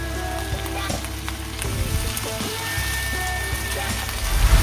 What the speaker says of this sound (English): Higher your fire so that it will be a little bit toasty, and then put in the tuna.